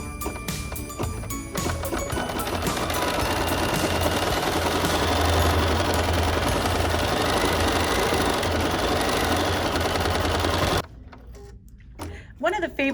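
An embroidery machine stitches the second thread color of a holiday ornament design, a steady, fast mechanical chatter running close and continuous before cutting off, followed by a few quieter clicks.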